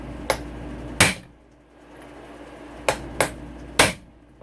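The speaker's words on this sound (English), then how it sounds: "Where's my big hammer?" Hammer strikes on a Suzuki RMZ450 engine crankshaft during a motor rebuild, driving it out: five sharp metallic blows, close and loud, two spaced apart then three more in quicker succession, with quiet workshop pauses between.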